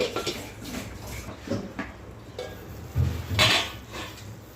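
Metal pan lid clattering and scraping as it is set over a pan of beans cooking with onion and masala, a few close clinks and knocks with a brief rattle near the end.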